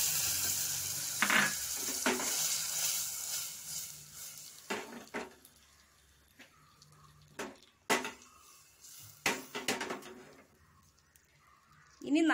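Ginger and garlic fry in a pan for a mango curry, a hiss that fades early, then quiet stretches broken by several loud spoon-and-pan clatters and bursts of sizzle.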